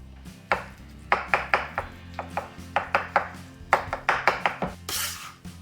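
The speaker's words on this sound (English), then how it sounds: "I'm just gonna give them a little bit of a chop." Knife chopping ripe avocados on a board for guacamole, about fifteen quick, crisp, close thuds in an uneven rhythm, ending in a softer scraping sweep.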